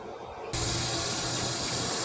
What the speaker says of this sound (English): so I'm washing the fish